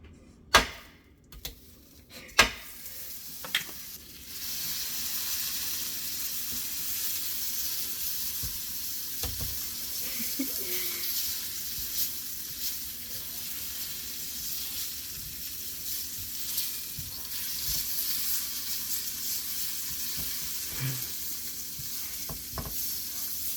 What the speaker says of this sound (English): Now that the griddle is preheated, it's time to cover it with butter.